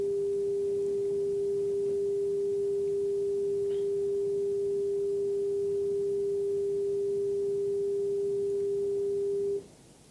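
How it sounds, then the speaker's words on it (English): A pure 400 Hz sine test tone holds perfectly steady and alone for about nine and a half seconds, then cuts off abruptly. "So this is the 400 hertz tone"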